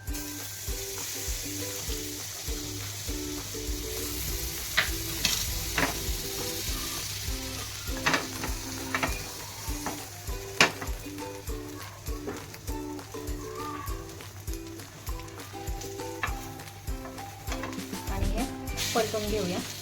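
Egg-dipped bread batter frying in butter in a pan, a steady close sizzle throughout with occasional clicks and scrapes of a utensil, over a low background hum and faint tonal music.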